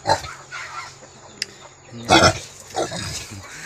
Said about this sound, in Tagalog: Talagang wild pa rin itong native na baboy ko.